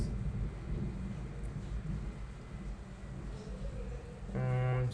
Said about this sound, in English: sorry for the thunder, guys.